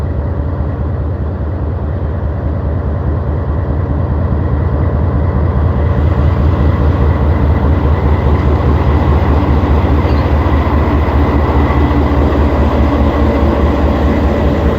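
A Jaffar Express passenger train rolls through a railway station with a steady, loud rumble and continuous rhythmic wheel clatter, heard alone for the whole stretch.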